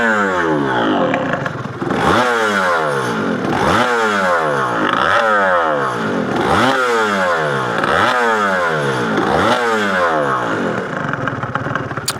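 A Yamaha TZR 250R two-stroke motorcycle is ridden hard and loud, its engine rising and falling in repeated sweeping revs about every one and a half seconds, a raspy whine through each gear change.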